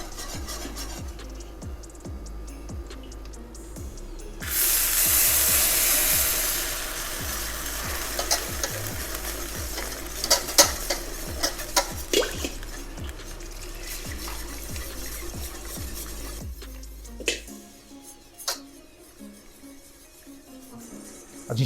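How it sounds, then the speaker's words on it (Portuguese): Hot broth is poured a little at a time into gravy in a pan and stirred nonstop, with a burst of loud splashing sizzle, then steady close scraping and bubbling with sharp spoon knocks. "o segredo agora é você ter o seu caldo quente e ir jogando aos poucos e ir mexendo sem parar"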